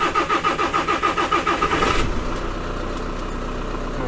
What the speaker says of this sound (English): Now we should start the van to make sure that the battery actually works.